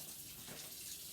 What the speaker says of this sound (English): so now we're just going to fill this up with water